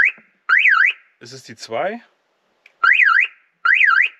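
Cadillock shock-sensor alarm fitted in a camper van sounds a loud warbling siren in short bursts, two at the start and two at the end, with a person speaking in German between them.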